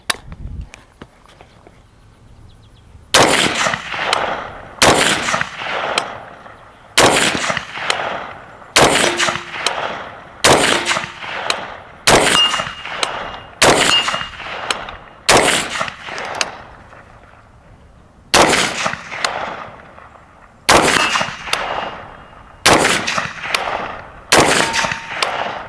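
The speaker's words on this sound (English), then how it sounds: "I'm going to flip up the sights, turn my dot off, shoot it that way." Single shots from a Colt M4 Block 1 clone rifle fired on iron sights, about a dozen loud sharp cracks spaced irregularly a second or two apart, each with a short decaying tail, no talk.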